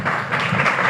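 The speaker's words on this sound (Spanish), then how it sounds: "Está aplaudiendo la senadora, así que todos tienen que aplaudir." Audience applause at a parliamentary forum on a fossil-fuel-free Amazon: a dense, loud wash of many hands clapping together in one brief burst.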